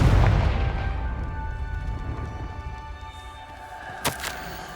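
Confringo fire spell blasts in Hogwarts Legacy, a heavy booming explosion that decays into a long ringing rumble, then a short sharp burst near the end.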